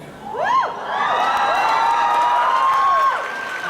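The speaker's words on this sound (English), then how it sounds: "You're cheering a number." An audience at a Sherlock panel at San Diego Comic-Con bursts into loud cheering, with high whoops and shouts rising into a sustained roar before easing off.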